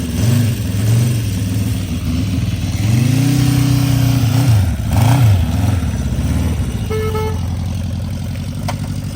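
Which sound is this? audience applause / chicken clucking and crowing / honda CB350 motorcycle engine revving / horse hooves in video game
honda CB350 motorcycle engine revving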